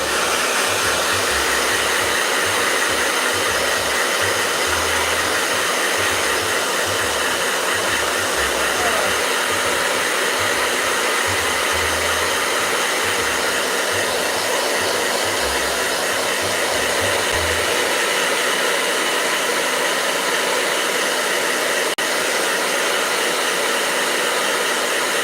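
A hair blow dryer runs loudly and steadily for about twenty-five seconds, a constant airy roar with a low motor rumble that fades near the end while the airflow continues.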